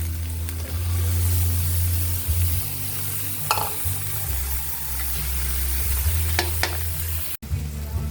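Ground pork and chayote sautéing in a pan, a loud steady sizzle of frying broken by a few clinks and scrapes of stirring, with a low hum underneath and no talking.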